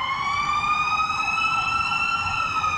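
A fire truck's siren wails steadily at moderate distance in a squatter area of Cabantan, Cebu during a fire, its tone drifting slightly as it passes, with no talk over it.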